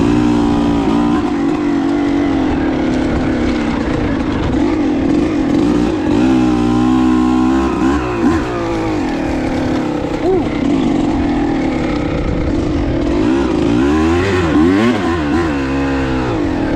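A two-stroke dirt bike rides laps with a loud, constant buzzing engine drone, its pitch rising and falling as the throttle opens and closes, heard close from the rider's position.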